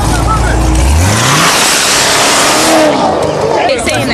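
Mazda Miata engine at a car meet revs loudly with a rising pitch sweep, nearby and constant, while people talk and exclaim over it amid crowd noise.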